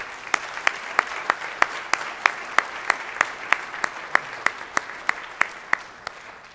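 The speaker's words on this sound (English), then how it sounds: "Let's give Asbury a great round of applause." Steady applause from an audience at the 2017 Gaithersburg State of the City event, with sharp regular claps standing out over a continuous wash of clapping, no voices.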